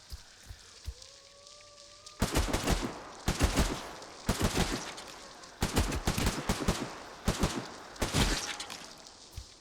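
Bursts of AK rifle fire in a first-person shooter video game, several loud rapid volleys repeating through the clip after a quiet opening.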